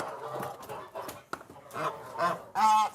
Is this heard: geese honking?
yes